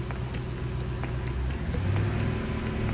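A 2006 Ford F150 in limp mode idles with its engine running during diagnostics, a steady low hum and drone with faint regular ticking, heard close and fairly quiet with no talking.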